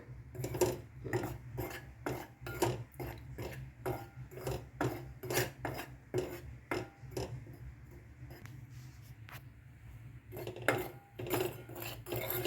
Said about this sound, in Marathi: चांगले खमंग भाजून घ्यायचं